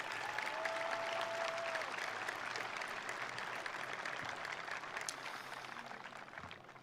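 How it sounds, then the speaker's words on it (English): Sustained applause for an award-winning choir fills a high school commencement ceremony hall, a dense steady clapping from a large audience that carries on for several seconds before tapering slightly at the end. "Another round of applause, please, for them"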